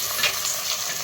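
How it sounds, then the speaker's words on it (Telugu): Large tomato pieces drop into a hot frying pan for a brinjal curry cooked in a clay pot, giving a loud, steady, bright sizzle with a brief louder burst near the start. "ఈ టైంలోనే నేను ఒక 2 టొమాటోస్ పెద్ద పెద్ద ముక్కలు వేస్తాను"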